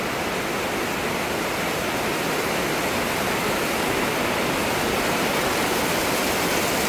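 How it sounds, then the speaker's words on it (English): Heavy rainwater waterfall in a Bangkok park after a downpour during the rainy season, a loud, steady broadband roar of falling water that holds constant throughout with no voices. "So this created a proper waterfall here."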